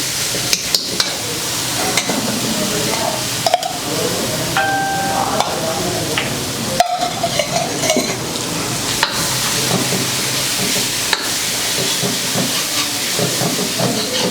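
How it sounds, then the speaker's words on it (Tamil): Mutton frying with mutton masala, loud continuous sizzling in a pan with frequent stirring clatters and scrapes close by. "இப்போ வந்து மட்டன் மசாலா ஒரு அரை போதும். கொஞ்சம் அப்படியே ஃப்ரை ஆகணும்."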